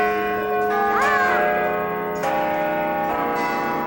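Chimes at Minneapolis City Hall ring out in sustained, overlapping bell tones, a melody of struck notes that swell and decay one after another, loud and resonant with no talk over them.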